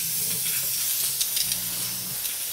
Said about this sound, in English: because we're using dry steam, vapor, and no chemicals